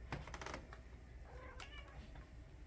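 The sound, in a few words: cats meowing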